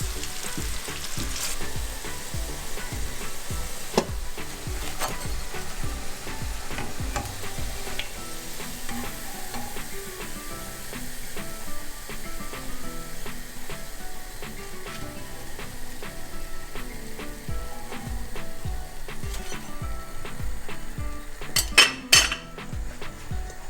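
Loud, continuous sizzling of onion bhaji fritters frying in hot oil, with occasional clinks and scrapes of utensils against the pan, no talking.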